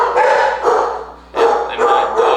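Several dogs bark loudly and close by in repeated bursts of sharp barks, with a short lull in the middle before the barking starts again.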